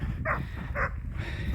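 A guard dog on a rural trackway in Central Portugal gives two sharp barks at a passing hiker, moderately distant and spaced about half a second apart, over steady wind and outdoor background noise.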